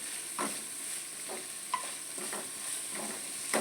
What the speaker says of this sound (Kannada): ಈಗ ಇದನ್ನು ಸರಿ ಫ್ರೈ ಮಾಡ್ಕೊಳ್ಳೋದು ದೊಡ್ಡ ಫ್ಲೇಮಲ್ಲೇ ಇಟ್ಕೊಳ್ಬೇಕು ಫ್ರೈ ಮಾಡ್ಕೊಳ್ಳೋದು